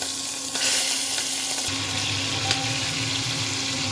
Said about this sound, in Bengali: আমি আগে চিংড়ি মাছগুলো এক এক করে ভেজে নিচ্ছি।